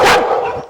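A dog gives a single sharp, loud bark that trails off quickly, close by and with no talk.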